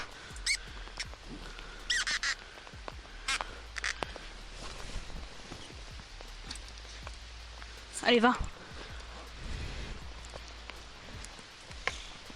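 Raindrops tap irregularly on a GoPro camera housing during a rainy outdoor sports challenge, with scattered sharp ticks over a constant hiss and a brief louder burst near the middle, while a person speaks intermittently.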